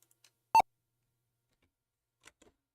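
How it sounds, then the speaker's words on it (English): A computer beeps once during a Windows 95 install from floppy disks on an old MS-DOS 5 machine, a short, loud, clear tone in a quiet room, followed later by a few faint clicks. "I told you to stop beeping at me."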